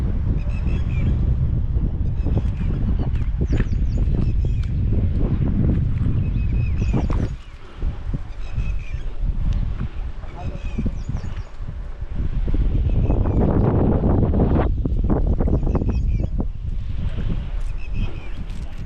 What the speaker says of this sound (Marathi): मित्रांनो, वारं खूप प्रचंड आहे